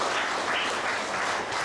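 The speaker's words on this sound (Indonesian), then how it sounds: "Berikan tepukan." Church congregation at a revival service clapping, a steady wash of applause from many hands filling the short moment without talk.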